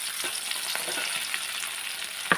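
Steady close sizzling of spring onions stir-fried with boiled mushrooms in a pan, with a few soft stirring scrapes and a sharp clack near the end.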